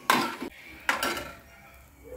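Fried ingredients are scraped from a pan into premixed idli batter for temple-style Kanchipuram idli: two clattering metal-on-pan scrapes with a soft wet plop, close and fairly loud, then quiet kitchen hum.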